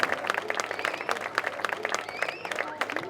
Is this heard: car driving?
no